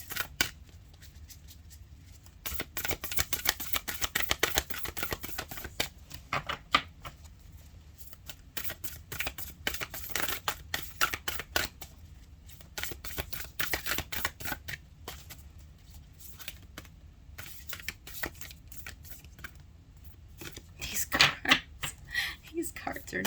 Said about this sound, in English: These cards are not easy to shuffle.